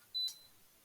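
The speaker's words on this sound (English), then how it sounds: "I don't know if you hear the controller beep in the background there." A Net2 access control door controller gives a single short electronic beep, faint and in the background.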